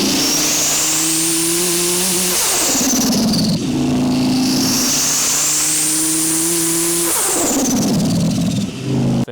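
A freshly rebuilt Ford ST engine revs hard and loud up close, in two rising, sustained roars that drop back between pulls, with no talking over it.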